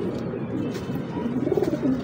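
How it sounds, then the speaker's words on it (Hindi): Ferozpuri pigeon cooing up close, soft low throaty coos repeating in a gentle rolling rhythm over faint background noise. "यह फिरोजपुरी कबूतर है"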